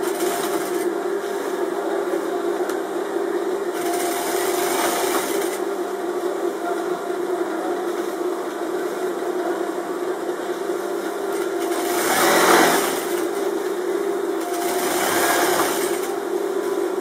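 A sewing machine runs steadily while stitching trim for a traditional Moroccan garment, a continuous close mechanical whir with brief swells in speed.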